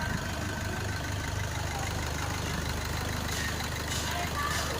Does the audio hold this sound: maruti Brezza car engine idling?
yes